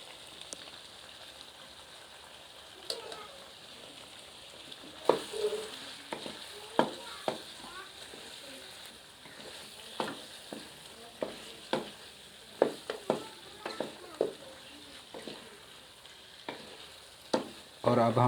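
Dhaba-style chicken karahi sizzles steadily in a hot pan as red chili powder goes in, with a spoon clacking and scraping the metal in irregular taps over the frying hiss.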